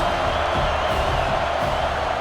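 A football stadium crowd roars steadily in cheering support of the defense, a dense continuous wash of noise at a FFL game between the Oakland Thunder and New Mexico Aztecs.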